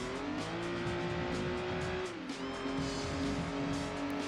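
A car drifting in Gran Turismo 2, its tires squealing in a long sustained screech over the steady engine drone, dipping in pitch partway through.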